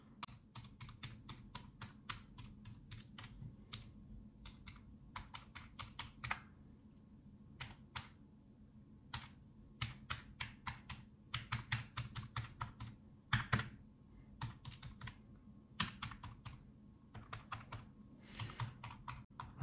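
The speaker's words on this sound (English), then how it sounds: "I can say are very smooth when I'm pressing all the keys." Keys on a Silvercrest wireless keyboard are pressed in quick, irregular bursts of soft, close clicks and clacks over faint background hiss, with no talking.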